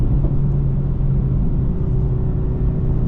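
A 2025 Mercedes AMG C63 heard from inside the cabin during a turn, a steady loud low engine and road rumble with no clear change in pitch and no talking.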